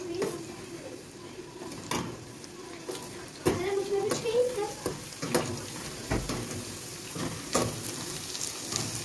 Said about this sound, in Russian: Жарится оно очень быстро.